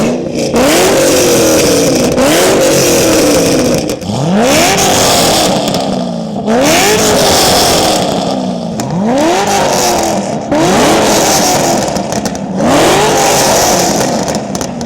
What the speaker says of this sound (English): let's go ahead and see how these 2 wonderful American V8s sound